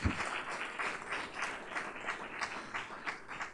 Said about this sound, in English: But huge round of applause for their leadership